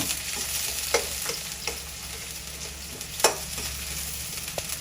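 Onions frying in a pan for chowmein, a steady sizzle broken by a few sharp scraping knocks of stirring, close and alone without any voices.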